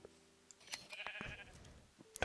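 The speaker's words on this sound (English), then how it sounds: "Come here, sheep. Hey, where are you going?" A Minecraft sheep gives a short, faint bleat among quiet game sounds and soft clicks.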